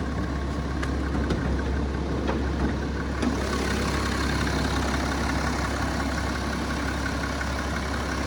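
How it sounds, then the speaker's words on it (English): A BMW X4 3.0d diesel idles with the bonnet open, giving a steady low rumble with a constant mechanical clatter, close and unchanging throughout. "We've got the engine running"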